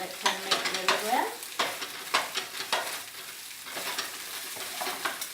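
Cold rice is stir-fried in a pan with a spatula for pineapple fried rice, giving a steady sizzle under repeated scraping and tossing strokes, close and moderately loud, with no talking.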